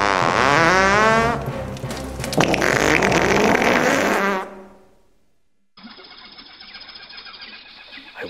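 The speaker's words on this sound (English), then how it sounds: "I want to know how he can fart so much when he hasn't eaten anything in days." A long, loud, rippling fart with a tonal, sputtering buzz runs for several seconds, fades out, then a thinner raspy stretch follows after a short gap.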